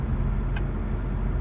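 A car driving through Cebu City, a steady low rumble of engine and road noise heard from inside the car, constant throughout the short stretch.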